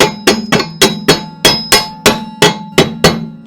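A hammer taps a wooden tool handle into a metal socket with about eleven sharp, evenly spaced knocks, close and loud with no talk.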